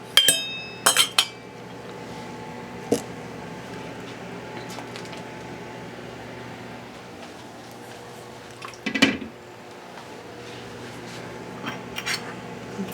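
Glass jars of home-canned maple syrup clink against each other and the oven rack as they are pulled out of the oven, a few sharp clusters of clinks spread apart over a quiet background.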